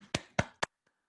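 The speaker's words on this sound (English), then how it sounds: "That's applause from one participant" A lone participant claps three times at the close of an online conference talk on sustainable urban stormwater design, sharp separate hits followed by two faint taps in otherwise quiet surroundings.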